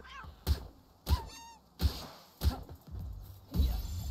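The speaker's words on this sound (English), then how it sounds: "I'm chasing a cat." A cat Pal in the Palworld video game gives a short meow amid repeated dull thunks from the chase, spaced roughly every half second, fairly quiet overall.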